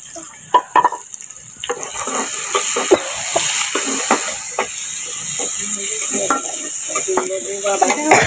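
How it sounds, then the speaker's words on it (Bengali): Chopped garlic and onion sizzle in hot oil in a pan over a wood-fired clay stove, a steady frying hiss broken by clinks and scrapes of a spoon stirring against the metal. "তেল দিয়ে দিলাম, এই একই কড়াইতে দিয়ে দিচ্ছি। আর সাথে রসুন কুচি, পেঁয়াজ কুচি"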